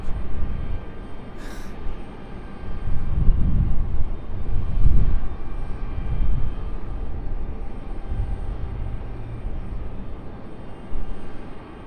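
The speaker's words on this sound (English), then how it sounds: "Alaska Airlines making their way down the hill." Alaska Airlines airliner taxiing at Raleigh-Durham International Airport, a low rumbling jet-engine drone that swells and fades in broad surges over a steady background hum, heard from a distance.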